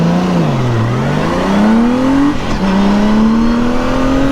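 Honda Goldwing motorcycle engine cruising on a highway at low revs, a loud steady drone with gentle pitch rises and falls as it shifts, accompanied by strong wind and road rush throughout.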